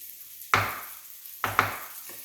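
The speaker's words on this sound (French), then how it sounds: "on mélange bien et on tapote pour éviter justement que ça ne colle" A spoon stirs and taps Flemish carbonades beef stew in a pan, giving three sharp knocks with brief sizzling tails against a quiet background.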